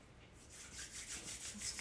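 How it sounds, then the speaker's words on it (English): Palms rubbing briskly together during a guided energy meditation, a soft, steady friction hiss that swells in repeated strokes, close and alone without speech. "Rub our hands together."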